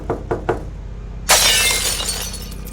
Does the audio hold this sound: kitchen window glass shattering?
yes